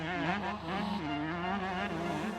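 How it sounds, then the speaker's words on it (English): Several 33-year-old 125cc two-stroke motocross bikes race at a track, engines screaming and buzzing in overlapping high revs that rise and fall as they climb a hill, loud and continuous with no talking. "Just listen to those bikes out that hill."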